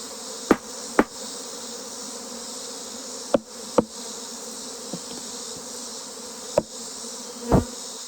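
A thick, continuous hum of many honeybees around a hive box fills the air nearby, punctuated by scattered sharp taps and knocks.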